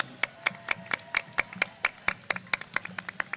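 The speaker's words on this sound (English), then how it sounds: "Folks, give them a round of applause." A small group claps at a homecoming parade, sharp irregular hand claps spaced a few per second, fairly faint and without talk.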